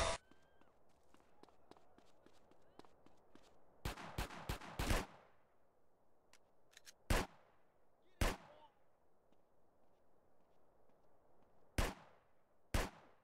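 Gunfire in GTA San Andreas, sharp loud single shots and a quick burst of several rounds spaced irregularly, over a soft rhythmic pulse of footsteps or background game sound.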